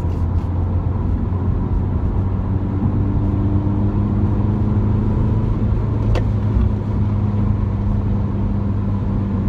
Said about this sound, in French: Allez, je fais une petite accélération.